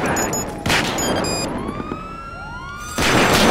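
Police car sirens wail in a video game robbery at a gas station, rising and falling tones sweeping through over a steady din of gunfire and loud bursts, fairly close and continuous.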